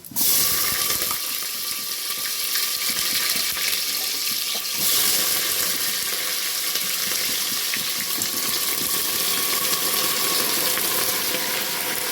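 Vegetables (stalks, potato, eggplant) dropped into hot oil with five-spice tempering in a pan, giving a loud, steady hiss and crackle that starts abruptly and continues without pause, no voices heard.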